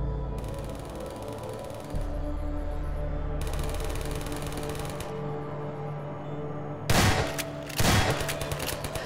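Half-Life 2 gunfire, a long rattling stream of rapid shots with short gaps, then two sharper, louder bursts close by near the end.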